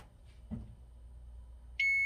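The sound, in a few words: kitchen timer going off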